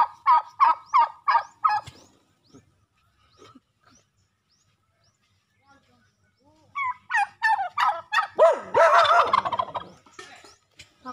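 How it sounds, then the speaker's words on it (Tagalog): A turkey near a fishpond gobbles loudly and close in a rapid burst of rattling calls, falls quiet for several seconds, then lets out a longer, louder gobbling run. "Pabo."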